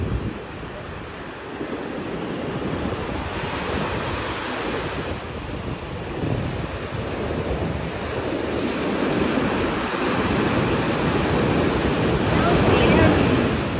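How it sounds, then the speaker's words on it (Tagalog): Strong sea waves surge and crash continuously on a Philippine shore, a loud, rolling wash of surf with wind buffeting the microphone and faint voices now and then. "Lakas ng alon mo."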